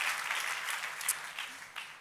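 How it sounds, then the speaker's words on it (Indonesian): Church congregation applauding during a service, a fairly soft, continuous patter of many hands with a few louder claps standing out. "Sekali lagi tepuk tangannya paling meriah buat Yesus Tuhan kita."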